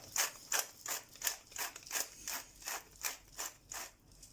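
A pepper mill grinds pepper over chicken with olives and preserved lemon. It gives a quiet, dry ratcheting crunch in about eleven even twists, close by and with no talking.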